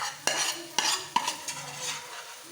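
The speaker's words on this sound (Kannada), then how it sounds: "ಈಗ ಬೇಳೆ ಹಾಕ್ಕೊಳ್ತಾ ಇದ್ದೀನಿ." Cooked lentils (dal) go into a pan and are stirred, with a few sharp metallic clinks of a spoon against the pan, then softer scraping and a faint wet sizzle fading away.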